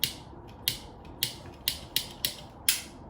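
A skull-decorated lighter clicked again and again, seven crisp, evenly spaced mechanical snaps close to the mic in an otherwise quiet room.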